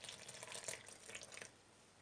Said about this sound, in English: And now we're just going to add in some water.